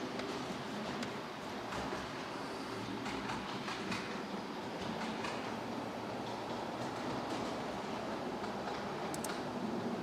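A model railway train runs continuously, a quiet steady rolling rumble with faint rhythmic clicking of wheels over track joints throughout.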